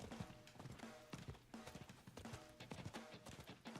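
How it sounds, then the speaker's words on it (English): A horse galloping in the video game Diablo 4, with rapid rhythmic hoofbeats pounding steadily and fairly loud throughout, alone without speech. "Move your butt, horse!"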